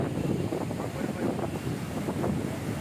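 Steady, rushing cold wind buffets the microphone with a low, continuous roar at Urakuzhi, Kakkayam, blowing strongly throughout with no voices.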